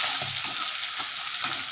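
Green peas frying in a pan for a tomato and potato curry, a continuous sizzle with a few soft scraping stirs at regular intervals, close and alone.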